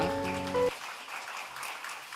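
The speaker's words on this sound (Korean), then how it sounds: "우리 초아 축복하면서 한번 박수하겠습니다" A church congregation at a baptism service applauds a girl's testimony; a brief voiced sound opens, then a soft, diffuse wash of clapping continues.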